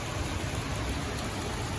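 Heavy rain during Tropical Storm Isaias, a dense, steady roaring hiss that stays constant and fairly loud with no gaps.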